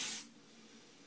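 One short burst of body spray from an aerosol can, a bright sharp hiss lasting about a quarter second, then near silence.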